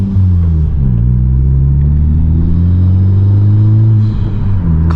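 A 2021 Honda Civic Type R fitted with a MAP exhaust, in sport mode, revs close by with a loud, steady rumble whose pitch rises, holds, dips briefly and then climbs again over about five seconds.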